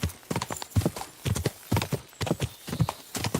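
Horse hooves clip-clop in Kingdom Come Deliverance 2, a steady trotting rhythm of close, hollow thuds at moderate loudness, repeating in even groups throughout.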